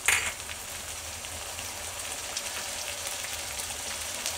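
Steady loud sizzle from cauliflower frying in a pan for dry Manchurian after a splash of vinegar, continuous and close with no voices.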